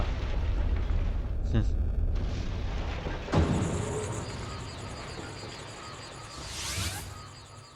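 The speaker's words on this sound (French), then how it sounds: "Avec une belle cinématique du Voltorb qui explose." Voltorb exploding in Pokémon Snap on the Nintendo 64: a game blast with a sharp burst midway followed by a long fading rumble, set over continuous background game noise, with a brief earlier crackle.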